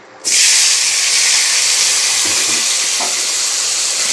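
Onion and tomato dropped into hot oil after frying potatoes for chicken kosha, a sudden loud burst of sizzling hiss that holds steady and close, with a couple of faint stirring knocks.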